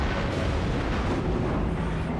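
Dense, roaring blast wash from an enemy shell knocking out a turret on the Cleveland, a tier 6 cruiser in World of Warships, loud and continuous with a rumbling low end.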